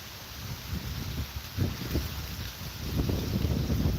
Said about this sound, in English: this wind is fucking ferocious today